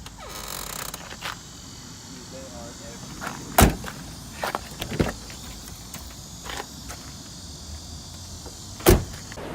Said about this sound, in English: had to park a car that was covered in bugs